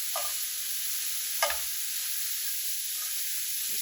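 Garlic butter shrimp seared in a pan with seasoning, a steady soft hiss of sizzling broken by a couple of sharp clacks as the shrimp are flipped.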